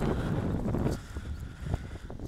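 Gusty wind in Rapla, Estonia buffets the microphone with low rumbling roar, strongest at first, then easing into lighter rustling gusts.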